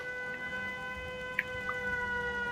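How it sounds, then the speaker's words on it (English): An air raid siren wails at a Fallout 4 settlement in Sanctuary, a steady, sustained tonal drone with layered harmonics, heard alone at moderate loudness with a couple of faint clicks. "Got the air raid shelter noise going on."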